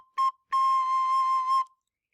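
A descant recorder sounds a clear, pure high C, first as a short blip and then as a steady held tone lasting over a second, played alone with no talking.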